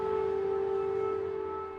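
A wartime civil defense air raid siren in a Ukrainian town wails with a steady, sustained tone that slowly fades, heard from a distance without talk.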